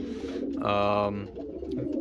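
A racing pigeon gives a single soft, throaty coo up close, over a low background murmur of other birds in a loft.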